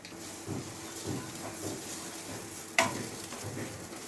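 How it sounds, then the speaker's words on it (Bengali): Chopped ginger, onion and garlic sizzle steadily in a hot pan for a fish kachori filling, with a soft hiss and occasional stirring scrapes, including one sharp clink. "এই আদা, পেঁয়াজ, রসুনটা একটু ভাজা ভাজা হয়ে গেলে আমি একটু ছাতু দেবো বাইন্ডিংয়ের জন্য।"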